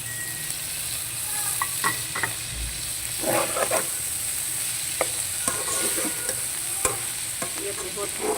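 Onions and spices fry lightly in a pan for bhindi sabzi, making a continuous soft sizzle with intermittent spoon scrapes and clicks as they are stirred. Nobody speaks.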